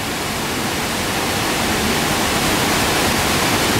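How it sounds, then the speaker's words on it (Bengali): A small but loud waterfall near the Nongriat double decker living root bridge gives off a dense, unbroken roar of rushing water, close by and steady, with no talk. "ঝর্ণাটা একটু দেখুন"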